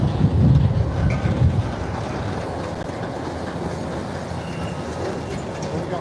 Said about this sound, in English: I'm not really liking this wind. The wind is going right through me.